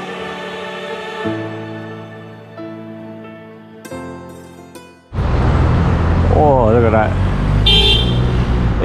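Road traffic in Davao City, Philippines, on a busy Monday morning, with a steady loud roar of car engines up close, a brief horn toot and music playing beforehand.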